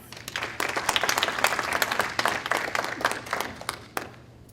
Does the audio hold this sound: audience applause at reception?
yes